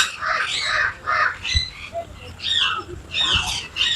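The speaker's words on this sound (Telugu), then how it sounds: "ఇప్పుడు చూడండి బర్డ్స్." In the bird section of a large zoo in Vizag, several birds call over each other with harsh caws and squawks in uneven bursts, fairly loud against a busy outdoor background.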